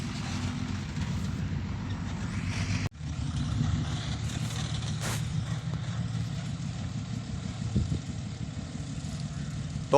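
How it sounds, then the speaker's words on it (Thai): A Toyota off-road vehicle's engine idles at a muddy off-road event, a steady low rumble that runs continuously and close, with a brief dip partway through and faint background noise. "เครื่องยนต์"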